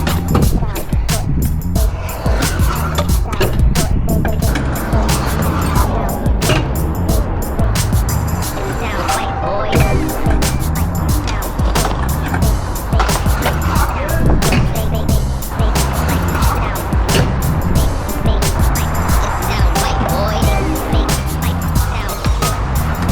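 Skateboard wheels rolling across a concrete skatepark step-up, a steady loud grinding roll with clacking bumps, continuous and close under occasional talking.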